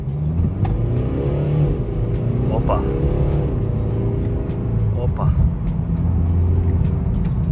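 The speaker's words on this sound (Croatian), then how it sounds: "Stavili smo Sport Plus, sad možemo lagano gasa nekog dodat" A Mercedes car switched to Sport Plus mode accelerates on an icy road, its engine a loud, steady drone close by, with voices talking over it.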